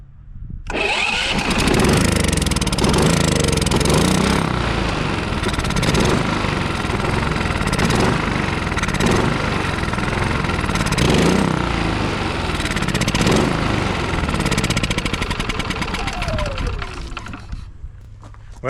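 A Westinghouse portable generator, started after a year in storage, runs loud and rough for a long stretch up close, its engine surging and sputtering unevenly before cutting off near the end, with a voice speaking briefly over it.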